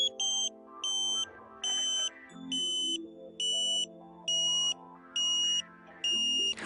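A satellite finder beeps in regular short bursts, a high electronic tone repeating about once a second, while a KA-SAT dish is aligned. Fainter tonal sounds shift underneath the beeps throughout.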